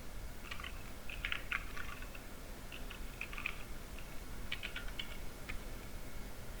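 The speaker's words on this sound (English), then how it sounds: "you have to type password and open this document." Soft typing of a password on a computer keyboard, a few scattered clusters of light key clicks over a steady room hiss, quiet and close.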